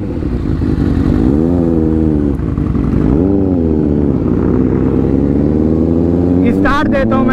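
A Kawasaki ZX-6R and a Ducati Monster 797 idle and rev loud and close before a rolling-start drag race, the engines droning steadily and climbing in pitch, with a brief sharper rise near the end.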